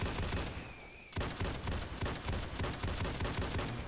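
An AA-12 automatic shotgun fires in Fallout 4, a rapid burst of loud, booming shots in quick regular succession after a short pause, with heavy low thumps and no talking.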